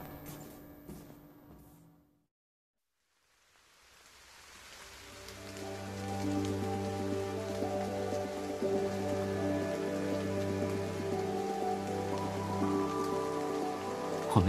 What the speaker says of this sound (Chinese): 要开始下雨喽！